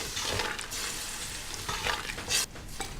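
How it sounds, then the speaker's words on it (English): Red wine poured into a hot pot of browned beef and onion for stew and stirred, a faint continuous sizzle with scraping and utensil clinks against the pot. "We're now going to deglaze the bottom of the pot with some red wine."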